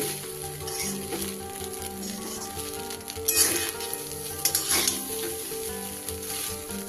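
Mixed fried rice being stirred and fried in a pan, with a continuous sizzle and bursts of scraping and tossing as the spatula moves through it, close and steady throughout.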